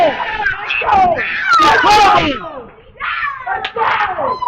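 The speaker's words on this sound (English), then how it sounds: "Crowd goes wild!" At a semi-pro finals match after a double strike, a crowd erupts in wild cheering and screaming, loud and close, with excited voices shouting and rising and falling across several seconds.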